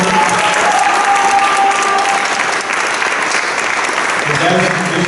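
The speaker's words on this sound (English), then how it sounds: "And another round of applause for Nigel." A crowd at the 2017 Guy V. Lewis Awards breaks into steady, dense applause for an honoree, loud and sustained across the whole stretch, with a few voices mixed into the clapping.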